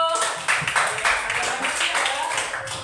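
Students in a classroom clap briefly during a lesson on the human respiratory system, scattered sharp hand claps close by with voices talking over them.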